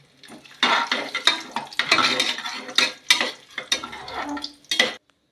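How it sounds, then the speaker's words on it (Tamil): Onion goes into a pot while cooking banana rice, with a string of clattering spoon-against-pot stirs and scrapes, irregular bursts over a soft sizzle, close and fairly loud, no talking. "இப்போ அடுத்து வெங்காயத்தை போட்டுருவோம்."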